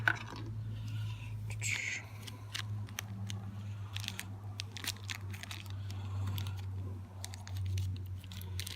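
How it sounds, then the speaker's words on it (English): Scissors snip and crunch through plastic packaging in a series of irregular close cuts and crinkles, with a low steady hum underneath. "Got scissors for that."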